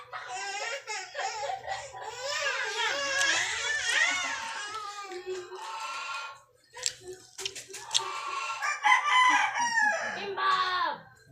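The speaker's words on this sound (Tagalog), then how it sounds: "Oy, nag-aaway! Nag-aaway mga goose." Geese squabbling, with a run of loud, harsh, overlapping honks and cackling calls that rise and fall for several seconds, dip briefly, then flare up again close by.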